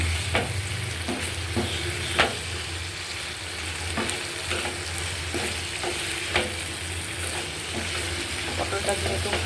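Chunks of pointed gourd fry in a pan with oil, giving a steady close sizzle broken by repeated sharp scrapes and knocks of a spoon stirring at irregular intervals.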